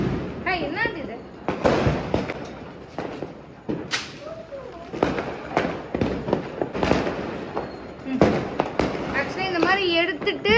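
Diwali firecrackers burst in a rapid, uneven series of loud close cracks and bangs at a family celebration, with voices chattering between and over the explosions.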